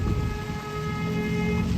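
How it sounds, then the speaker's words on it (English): A car horn honks on a street in Burlington, sounding as a sustained, steady tone over ongoing traffic rumble. "Oh, it's this guy honking."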